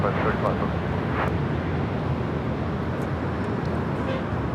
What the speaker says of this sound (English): This is Virgin Atlantic Flight 142 taking off to London Heathrow on the 787-9 Dreamliner